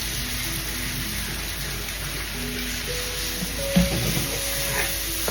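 Eggs stirred in a hot pan over medium-low heat, a dense continuous sizzle with soft scraping from the utensil, steady throughout and close, one sharper knock near the end.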